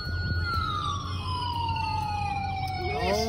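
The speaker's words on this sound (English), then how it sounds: "Keep your siren on." A pretend emergency vehicle siren sounds continuously, its tone slowly falling across the clip, loud and close over a low hum during pretend play responding to a dislocated shoulder.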